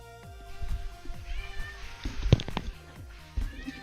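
A cat meows a few times, short close calls rising over a busy music track with a thumping beat, scattered among other brief sounds.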